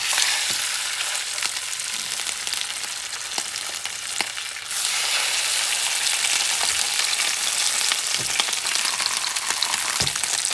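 Blackened rainbow trout sizzles skin-side down in a hot pan, a dense, close crackling hiss that intensifies partway through, with occasional scraping clicks and no talk.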